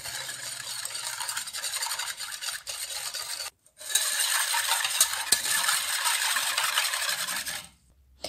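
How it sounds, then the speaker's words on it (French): A wire whisk scrapes and rattles steadily against a bowl, mixing dry starch, caster sugar and vanilla sugar, with a brief pause midway before the brisk rasping stirring resumes, close and fairly loud, no talking. "Et avec le fouet, je mélange."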